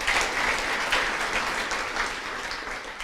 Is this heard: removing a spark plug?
no